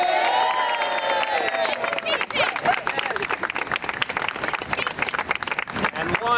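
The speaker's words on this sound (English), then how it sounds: "Give them a round of applause." A crowd at a Brooklyn rally to save LICH hospital breaks into loud, sustained applause with dense clapping and scattered cheers running throughout.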